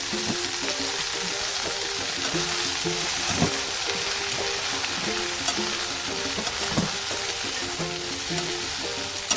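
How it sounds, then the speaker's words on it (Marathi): Okra sizzling in hot oil in a home kitchen pan, a continuous crackling fry with occasional spatter pops and soft stirring clatter, steady and close, with no one talking. "भेंडी ही चांगली तेलात फ्राय होऊ द्यायची"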